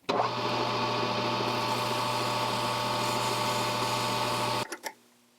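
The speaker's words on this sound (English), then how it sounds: "We'll polish it up with some emery cloth." A machined metal collet for an antique mortiser polished with emery cloth while spinning in a lathe, a loud, steady whirring grind that runs several seconds and then cuts off with a few clunks.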